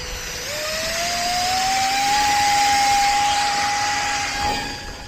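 The electric motor of a ZOHD Drift FPV plane at half throttle, a steady whining drone that rises in pitch as it spools up and then holds, close and loud with wind rush and no talking.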